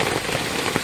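Rain falling steadily in a broad, dense hiss with scattered drop patters, heard close and continuous during a flood rescue of stranded rigs after days of rain, no voices.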